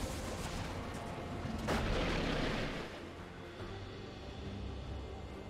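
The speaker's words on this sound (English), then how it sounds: "Red team's turret has been destroyed." A turret being destroyed in League of Legends, a loud rumbling crash of booming, gunfire-like bursts that peaks sharply midway, then tails off into a lower sustained roar.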